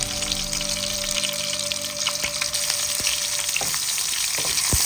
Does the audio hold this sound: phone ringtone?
no